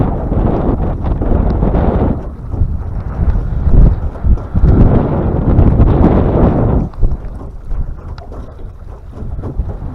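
Strong wind blowing outdoors while fishing buffets the microphone as loud, rumbling low gusts that rise and fall steadily throughout.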